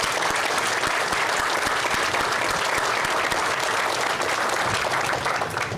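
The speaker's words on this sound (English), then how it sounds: "I'd like all of your help in applauding these dedicated professionals." A crowd honoring dedicated county professionals breaks into loud, sustained applause: dense, even clapping from many hands that holds steady throughout.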